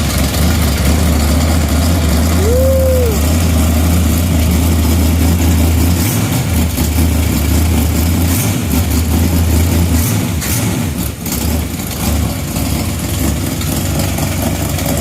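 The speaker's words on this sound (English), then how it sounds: "There's an exhaust leak right there." A Chevy 350 V8 bored .030 over runs on an engine stand with an exhaust leak, a loud, steady low rumbling idle with faint ticking and slight throttle swells, close up and without talk.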